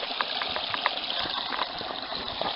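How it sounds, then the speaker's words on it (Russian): A forest stream in the Komi countryside runs full after rains, a steady close rushing gush of water with faint bubbling and no voices. "Ручей течет."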